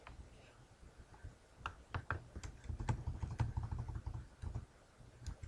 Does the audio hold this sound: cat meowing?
no